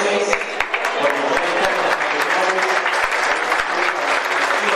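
A crowd at a regional sports club event applauds, a loud, dense and continuous burst of many hands clapping up close.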